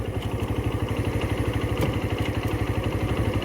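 Keeway RKV 125 motorcycle engine running close by, a steady rhythmic mid-pitched thrum with even pulsing beats and light mechanical clatter.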